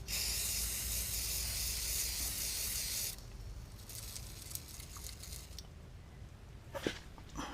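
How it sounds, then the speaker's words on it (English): WD-40 aerosol sprayed onto rusted rear shock bolts of a C4 Corvette, a loud, steady close hiss for about three seconds, followed by shorter bursts of spray and faint clanks. "WD-40. Loosen this up a little bit."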